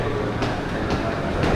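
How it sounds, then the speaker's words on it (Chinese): A train pulls into an underground-access station platform in Verona, Italy, giving a steady, close, broadband rumble with faint rhythmic rail clatter and no voices. "这边火车就出来了啊"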